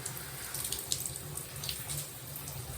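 Tap water runs steadily while suds are rinsed from curly hair during a shampoo, a soft continuous splashing hiss with small irregular spatters, fairly faint and close, with no talking.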